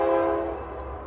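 A train horn sounds loud and close, a sustained harmonic blast that fades slightly as the train passes over the low rumble of the rails.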